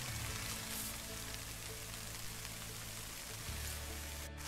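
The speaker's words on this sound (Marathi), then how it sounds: "पाऊस लागता बघा कसलो जोरात दिसतो" Heavy rain falls on an open plateau, a dense steady hiss of drops close by, with no talk over it.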